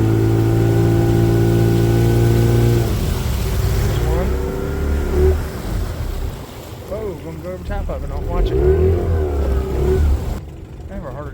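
A small boat engine drones steadily, then shifts pitch as the throttle changes, while someone talks over the motor and water noise.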